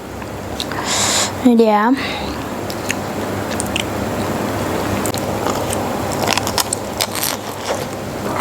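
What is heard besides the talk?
biting crunchy Korean cheese garlic bread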